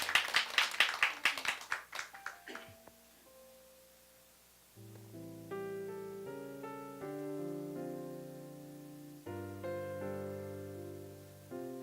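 A church congregation applauds during a Sunday service, a short burst of clapping that dies away within three seconds, followed by soft sustained organ or keyboard chords.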